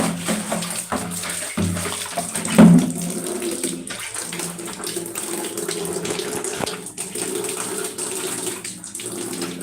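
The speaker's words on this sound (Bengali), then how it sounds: "দেখ পানি এসেছে" Water runs steadily from a tap, splashing continuously with a few knocks and clatters in the background.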